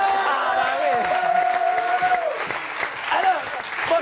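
Studio audience applauds on a French evening entertainment show as a costumed Smurf character comes on stage, a steady close wash of clapping with tonal music or voices layered over it throughout.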